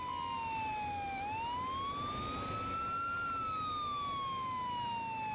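Ambulance siren in the emergency-response game Emergency 4, a single steady wailing tone slowly sliding down and up in pitch, clear and continuous against faint background noise.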